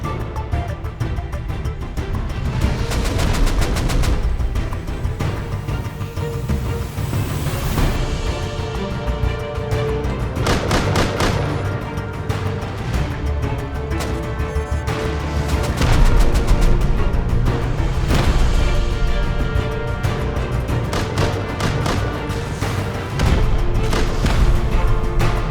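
A Rust raid gives dense, continuous battle noise, with booming rocket explosions and gunfire rolling over one another at steady high loudness, with several loud bursts along the way.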